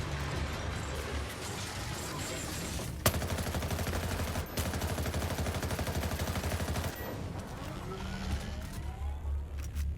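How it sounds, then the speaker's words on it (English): Rapid sustained light-machine-gun bursts firing at a Behemoth's armor plates in the snowy Ghost Recon Breakpoint video game, loud dense rattling fire with short pauses between strings and a few sharp heavier impacts. "I'm using my LMG to try to take off the armor plates."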